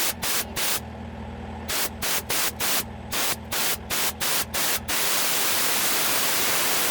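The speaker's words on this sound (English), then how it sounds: "I'm gonna get under there and spray it with some air" Bursts of compressed air hiss into a vehicle throttle to clear water, in a quick irregular series of short blasts, then one long continuous spray to the end.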